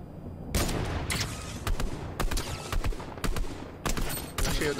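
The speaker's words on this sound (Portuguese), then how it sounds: "Ah, eu errei o tiro nele" Gunfire in the battle royale game Fortnite crackles in repeated loud bursts, rapid strings of shots broken by short pauses, close and sharp throughout.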